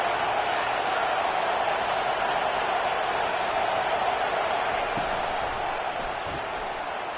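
A college football video game stadium crowd keeps up a dense, unbroken roar with a faint thump or two, while a commentator talks over it.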